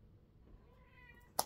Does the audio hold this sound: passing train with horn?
no